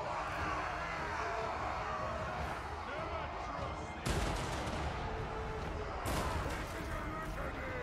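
Gunfire booms in the fantasy strategy game Total War: Warhammer 3, with dense battle noise throughout and two sharp, loud volleys cutting in a couple of seconds apart, under a player's voice.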